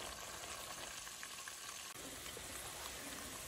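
Steady, dense sizzling and crackling of meat frying in hot palm oil for ayamase stew, continuous and close with no talking.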